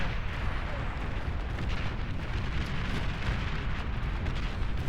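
Dense, continuous booming of artillery shots and explosions rolls through a battle in the strategy game Beyond All Reason, a loud rumbling barrage with overlapping blasts and no clear pauses.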